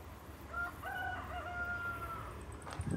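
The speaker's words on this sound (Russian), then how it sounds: "И петухи поют." A rooster crows with a long, drawn-out call, fairly distant, over a low steady outdoor hum in a village above Alushta, Crimea.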